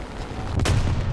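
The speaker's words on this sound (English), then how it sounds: "Last bomb, let's make it count. And it dropped" A bomb dropped from a Ki-27 otsu fighter plane explodes in a combat flight game: one loud, sharp blast with a deep rumbling low end that lingers briefly over steady engine drone.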